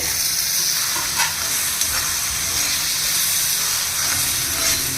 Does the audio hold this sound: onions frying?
yes